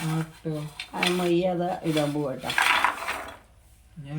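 Spoon stirring a sugary mixture in a pot for a homemade sweet, with metal scrapes and clinks against the pan under a person talking throughout.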